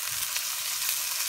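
Steady soft sizzle of a generous amount of garlic frying in a pan, faint and continuous with no talk.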